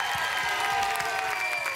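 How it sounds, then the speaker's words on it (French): A television studio audience applauds a young girl singer on a French fans' show, a short dense wash of clapping with light crowd noise mixed in. "Applaudissements pour elle."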